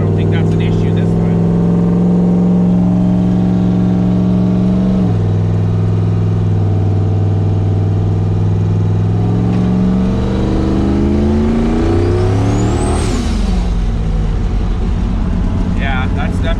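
A turbo LS V8 car engine, recorded from inside the car, drones loudly and continuously, its pitch climbing and then sagging again. Voices talk over the engine throughout.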